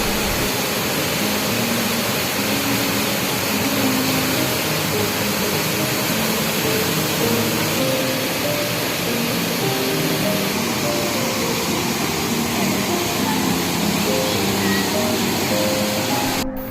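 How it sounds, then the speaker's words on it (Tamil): Thalakuthu waterfall in the Dindigul hills roaring as a steady, dense rush of falling water, loud and unbroken throughout with a faint tonal hum mixed in. "இந்த அருவியை நீங்கள் பார்க்கலாம்."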